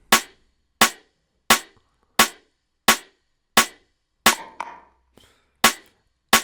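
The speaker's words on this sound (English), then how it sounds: "So the layers that you heard, they sound like this, and they sit on the snare." Nine sharp percussive snare hits in a steady pulse, layered samples stacked on a snare, each crisp and bright with a quick decay, one followed by a brief rattling tail.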